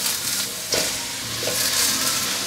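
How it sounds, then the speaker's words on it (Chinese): King oyster mushrooms and mixed mushrooms stir-fried in a hot pan give a steady, close sizzle throughout, with a couple of brief scraping bursts as the spatula tosses them. "快速翻炒，把杏鲍菇的水分炒出来"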